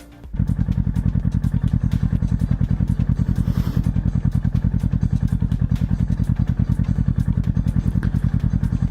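A Kawasaki Ninja 650 motorcycle engine runs close by with a steady, rapid low thumping pulse. A brief knock comes just before it starts, and the engine holds an even rhythm throughout without talk.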